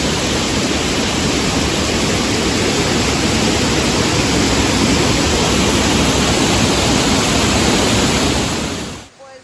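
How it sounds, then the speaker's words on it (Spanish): Waterfalls pour down in a loud, dense, unbroken roar of rushing water, steady and close, cutting off abruptly near the end. "aquí andamos enseñándoles estas bien ricas y bonitas cascadas"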